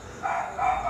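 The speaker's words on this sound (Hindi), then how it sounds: "देख रहे हैं कुत्ते भी भौंक रहे हैं।" Dogs bark late at night in Trinidad, two short barks in quick succession at moderate distance.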